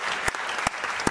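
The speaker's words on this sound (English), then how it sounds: "you clapped pretty hard there" Three sharp, hard hand claps spaced evenly and slowly about 0.4 seconds apart, close and loud, with quiet room tone between them and no speech.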